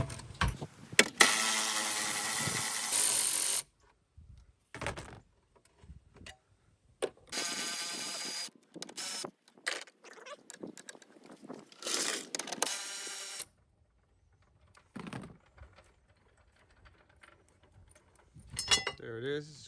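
A ratchet clicks rapidly in bursts as it removes 15 and 16 mm bolts from the air filter housing of a BMW F10 528i with an N20 engine, close and crisp, with gaps and clanks between runs.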